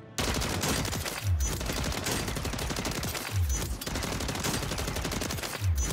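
Bursts of MCW rifle fire at a shooting range in MW3 Warzone, sustained rapid automatic shots with loud, close repetitive cracks broken by brief pauses, along with low thumps recurring every couple of seconds.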